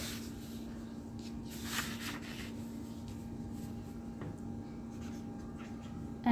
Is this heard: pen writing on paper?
yes